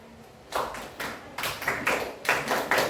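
Group of students performing the Indonesian scout clap pattern in a classroom, rhythmic bursts of unison claps in short groups, fairly close and crisp.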